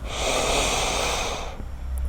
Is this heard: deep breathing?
yes